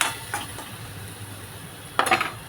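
Spices including turmeric and red chili powder fry in oil in a pan, with a faint sizzle broken by a couple of sharp clinks of a utensil against the pan, at the start and again near the end.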